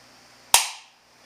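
A single sharp crack as a metal bar drops across charged capacitor terminals and arcs, a sudden bright snap that decays over half a second, heard alone in a quiet room.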